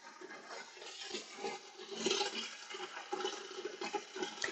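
Cold water pouring into a 25 litre boiler used for a spirit run, a steady rushing fill at a moderate, even level with no talk.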